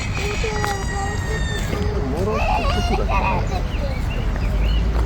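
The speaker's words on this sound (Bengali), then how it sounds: "হাঁস আছে।" Ducks and geese honk and quack near a pond in Parco Querini, Italy, a scatter of calls over outdoor park background noise, with people talking nearby.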